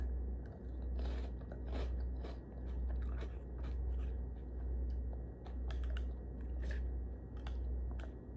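Crunchy hot fries are bitten and chewed close up during a mukbang meal with broccoli cheese soup. The crunches are quiet and rhythmic over a low steady hum, with no talking.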